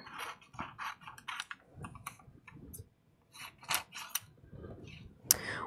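Scissors cutting out a paper print, close crisp snips and rustling paper in uneven bursts with short pauses, faint overall.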